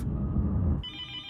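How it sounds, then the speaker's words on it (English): A telephone rings in an office, a single bright electronic trill starting partway through and holding steady after a low rumbling stretch, fairly close and clear. "and then the phone rang"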